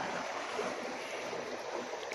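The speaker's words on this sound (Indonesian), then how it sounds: "Nah kanan kirinya tuh sungai kecil" A small river stream near Manuaba waterfall in Bali flows in a steady, unbroken rush of water that stays even and close throughout, with no voices.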